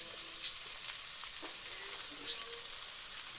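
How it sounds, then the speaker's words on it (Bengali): Chopped carrots and cabbage fry in a pan for a pasta dish, giving a steady, fairly soft sizzle with faint stirring scrapes and no voices. "গাজরগুলো এবার ভালো করে ভেজে নেব"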